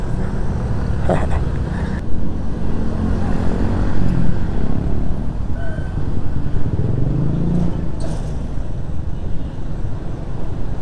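Suzuki Smash motorcycle riding on a road on a long trip from Catanduanes toward Manila, its steady engine drone and wind rush loud and continuous from start to finish, with no talk.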